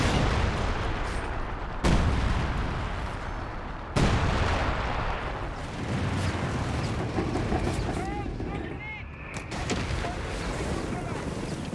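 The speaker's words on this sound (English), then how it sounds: "The sound effects, at least to me, sound more impactful and intense in Company of Heroes 3, especially for the artillery" Artillery barrages in the real-time strategy game Company of Heroes 3 boom repeatedly, with heavy blasts roughly every couple of seconds over a dense rumbling battlefield din.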